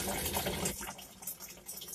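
Water runs from a tap into a container while filtering water for home brewing, a close continuous splashing gush that shifts in tone partway through.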